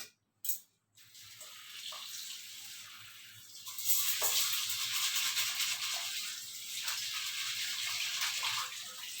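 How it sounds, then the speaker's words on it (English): Tur dal is washed in water, giving a soft, steady splashing and running-water hiss after a couple of brief knocks, fairly faint and without talk. "You have to wash the dal thoroughly."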